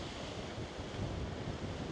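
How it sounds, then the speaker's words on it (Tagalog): Strong ocean surf breaking at Boracay island, a steady, loud roar of crashing waves with gusty wind buffeting the microphone and no talking. "Pero sobrang lakas ng alon."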